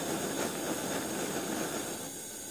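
A Coleman 500A camp stove burner turned down to simmer gives a steady, faint hiss that runs evenly, with no voices over it.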